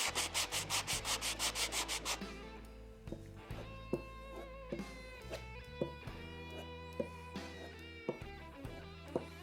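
Wood on an electric guitar body is sanded by hand, first in quick rhythmic rubbing strokes, then in slower, sparser scrapes with occasional soft knocks, close and fairly quiet.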